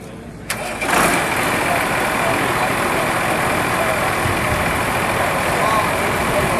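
A 1996 Case IH 5240 tractor with 577 hours cranks and fires at an Iowa farm auction, settling into a steady, loud diesel idle that runs on.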